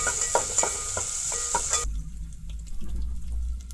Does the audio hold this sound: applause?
no